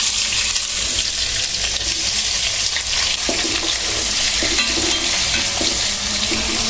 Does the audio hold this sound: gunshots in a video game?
no